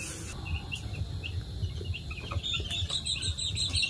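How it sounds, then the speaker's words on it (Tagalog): Day-old-style chicks of a Dominant CZ parent stock flock at a poultry farm peep in a steady high-pitched chorus during vaccination, many overlapping thin calls, moderately near over a low background hum. "Sisiw."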